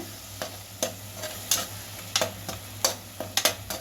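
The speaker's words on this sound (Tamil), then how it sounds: "அந்த ஸ்மெல் வர்ற வரைக்கும் நல்லா வதக்கிடுங்க" Onions sauté in a pan for chicken gravy, with a low steady sizzle and distinct spoon scrapes striking the pan about twice a second, close and clear.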